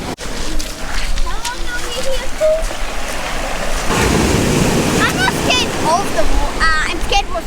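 Big waves surge and wash ashore on the Welsh coast with a broad rushing roar, wind gusting over the microphone, while a person speaks over the surf.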